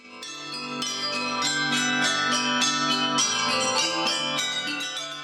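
Small hand bells (campanine) ring continuously in a lively, overlapping pattern, bright and resonant, with rapid repeated strikes and no voices.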